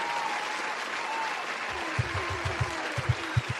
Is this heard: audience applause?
yes